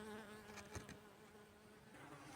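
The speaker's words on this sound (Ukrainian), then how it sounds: "Так, на мене напали оси." Wasps buzzing steadily around berries outdoors, a continuous close insect drone with several overlapping wingbeat tones and no voices.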